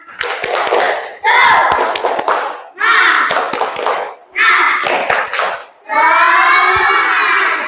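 A group claps a rhythmic chant in several short, loud bursts, with voices calling out between and over the claps.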